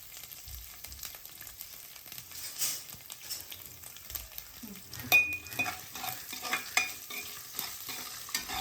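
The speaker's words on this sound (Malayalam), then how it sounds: "തേങ്ങാക്കൊത്തിട്ട് വഴറ്റണം" Coconut pieces sautéing in a hot pan for a pork fry, with a steady soft sizzle and occasional louder scraping stirs toward the end.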